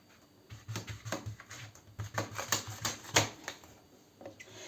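A knife chops young, tender zucchini into cubes on a cutting board, a quick run of close, sharp knocks in irregular bursts with no talk.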